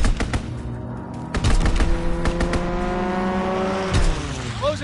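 Dense rattling gunfire from a fighter pilot's strafing run in a video game, loud and close, with rapid bursts layered over a roaring engine drone and sharp impacts.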